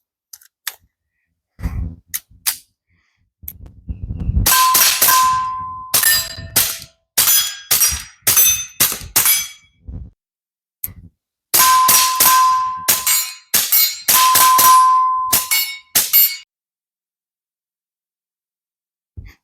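A suppressed Ruger Mark IV Lite .22 pistol fires a few spaced shots and then rapid strings of sharp cracks. Steel targets answer with ringing pings, and there are brief silences between groups.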